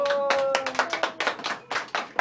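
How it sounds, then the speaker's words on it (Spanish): Children in a church Bible class clap together in loose, uneven bursts, close by and moderately loud, with short gaps between clusters of claps. "Muy bien, aplausos."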